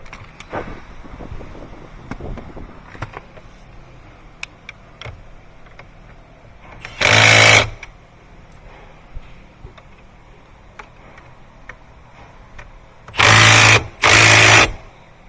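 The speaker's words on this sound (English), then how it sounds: "let's tighten down those 2 12mm bolts" Two 12mm steering column bolts are tightened on a 2013 Hyundai Elantra with a power tool. It gives three short, loud whirring bursts over faint clicks and shop background.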